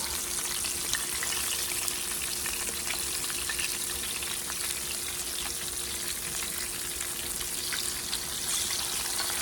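Pork chops fry in a pan with a steady, dense sizzle that runs continuously and fairly loud throughout, with faint crackles and pops scattered across it and no talking.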